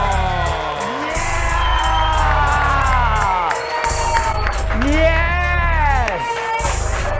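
A studio audience at a TV talk show taping cheers and applauds loudly and continuously, with rising whoops and shouts throughout and music playing underneath.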